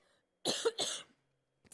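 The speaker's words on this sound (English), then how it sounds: "I need to cough right now" Two harsh coughs close together, near and loud, followed after a pause by a quieter short cough.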